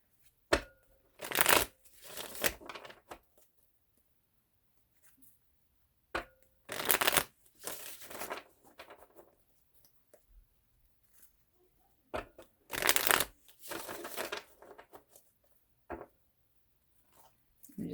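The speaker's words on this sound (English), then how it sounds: "I'm just gonna shuffle." Tarot cards are shuffled in several short, crisp bursts of riffling and sliding, close and fairly quiet, separated by pauses of near silence.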